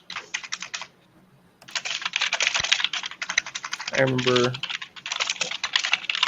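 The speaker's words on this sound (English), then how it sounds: "someone's got a very loud keyboard and a live mic" Loud computer keyboard typing clatters in rapid, steady bursts over a live mic, pausing briefly and resuming, with a short spoken phrase in the middle.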